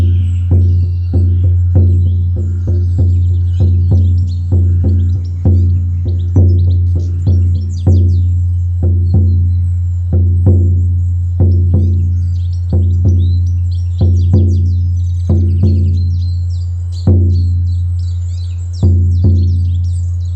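A 16-inch buffalo-hide shamanic drum struck with a soft beater in a steady, even rhythm, each muted booming hit close and resonant, continuing alone without talk.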